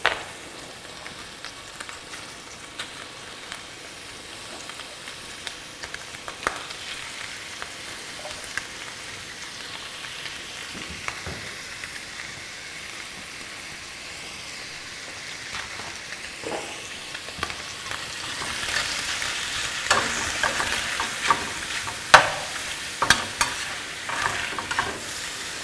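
Hamburger meat and butter frying in a pan give a steady sizzle with scattered pops and stirring scrapes. The sizzle swells louder and brighter in the final few seconds.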